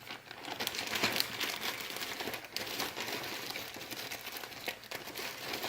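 A crinkly plastic pack of assorted coral sewing trims rustles and crackles continuously as it is handled close up, with no talking.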